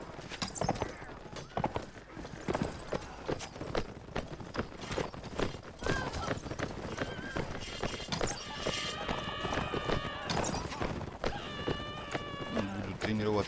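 Horses gallop in the video game Mount & Blade Warband with repeated clip-clop hoofbeats and occasional whinnies, mixed with battle clatter throughout; someone talks over part of it.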